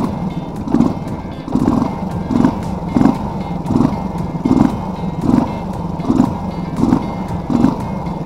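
A motorcycle engine with a PE 28 carburetor under repair idles low and steady after being turned down, its exhaust chugging in a regular pulsing rhythm about every three-quarters of a second.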